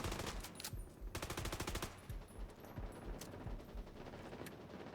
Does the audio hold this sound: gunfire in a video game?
yes